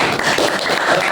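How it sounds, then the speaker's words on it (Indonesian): A classroom group claps for the presenting group, a steady wash of applause that is fairly loud and lasts about a second. "tepuk tangan untuk kelompok"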